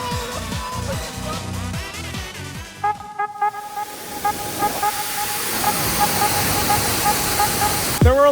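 A giant waterfall rushes as a steady broadband roar that builds toward the end, with people talking and shouting over it in the first seconds and a brief whistling tone running through the middle.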